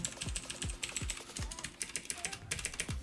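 Clicky mechanical keyboard with blue switches typing, a steady run of sharp, crisp keystrokes close up with a few heavier thocks mixed in, no voices.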